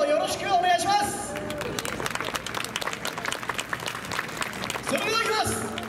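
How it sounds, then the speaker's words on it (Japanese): An audience at a Fukui Imamura-gumi Hokushinkai festival performance gives loud, sustained applause with crowd babble mixed in. A voice speaks over the clapping at the start and again near the end. "皆さん拍手の方よろしくお願いします"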